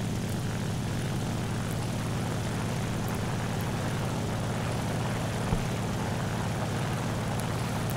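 A propeller airplane dives in a flight combat video game, its engine a constant, even droning roar that stays steady and loud from start to finish, with no talking.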